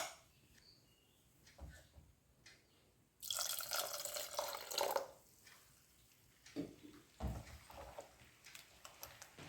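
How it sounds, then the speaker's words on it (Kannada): Water poured from a cup into sorghum dosa batter, a steady splashing pour of about two seconds after quieter handling noises, followed by a few brief drips and sloshes, close by with no talk. "ಒಂದು ಲೋಟದಷ್ಟು ಈಗ ಒಟ್ಟಾರೆಯಾಗಿ ನೀರು ಹಾಕಿಕೊಂಡಿದ್ದೇನೆ."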